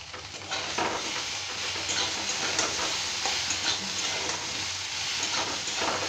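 Potatoes fry in a pan with a steady, dense sizzle, joined by intermittent scraping and stirring strokes from a utensil, close and continuous throughout.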